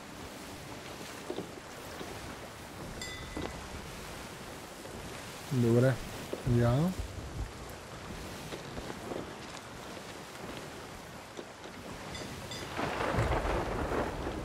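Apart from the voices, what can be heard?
heavy rain and thunder on ship in video game Sea of Thieves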